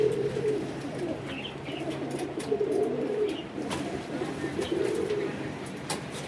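Pigeons coo nearby in low, rolling bursts that repeat every couple of seconds over a busy background with faint chirps.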